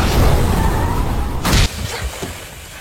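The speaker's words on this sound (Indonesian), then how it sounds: "tiba-tiba mobil milik penjaga bos Hong Tai meledak" A bodyguard's car explodes in a film action scene: a loud, sustained roar is broken by a sharp, bright blast, then a lower, fading rumble with debris-like crackle.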